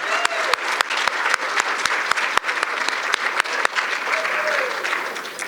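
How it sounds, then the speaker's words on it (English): Audience applause at a judicial candidate forum for Orange County judges, steady close clapping throughout with sharp individual claps standing out and a few voices mixed in. "Let's give her a round of applause."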